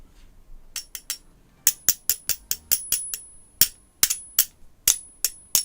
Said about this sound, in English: Hear that ringing? That's metal.